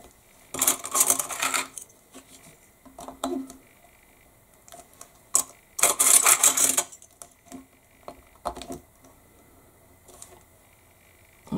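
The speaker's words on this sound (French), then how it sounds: "vous mettez des pinces tout le long pour bien faire adhérer votre colle." Clips clamp one after another along the glued spine of a handmade DIY journal. Sharp plastic snaps and clacks come in two bursts, with scattered small taps between them, close and clear.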